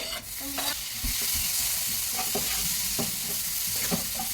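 Onions and tomatoes with pepper powder, Kashmiri chilli and turmeric being sautéed in a pan for prawn roast, a steady sizzle with repeated spoon scrapes and stirring knocks, close and moderately loud, no talking.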